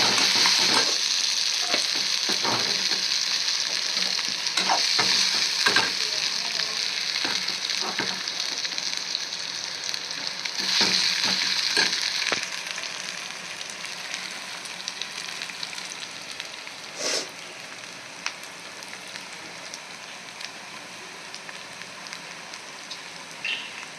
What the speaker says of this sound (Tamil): கடுகு உளுத்தம்பருப்பு, சோம்பு, ஆனியன், இஞ்சி பூண்டு பேஸ்ட் இதெல்லாம் போட்டு நல்லா அப்படி ஃப்ரை பண்ணிக்கணும், அடி பிடிக்காம